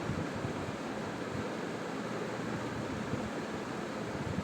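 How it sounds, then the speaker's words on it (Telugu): Steady dense bubbling roar of rice boiling in a pot, a continuous close wash of noise with no pauses or voices. "ఇది ఉడుకుతుంది"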